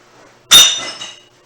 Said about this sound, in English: Ooh, glass on glass.